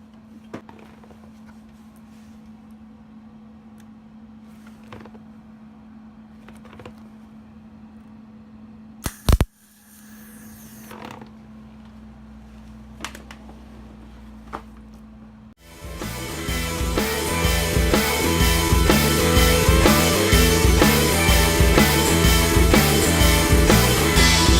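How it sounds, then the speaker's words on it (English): Welding steel on a VW Beetle rear quarter panel. A long quiet stretch with scattered faint ticks gives way to a loud, continuous, close crackling buzz that runs to the end. "I'm going to weld a little more and let the camera roll"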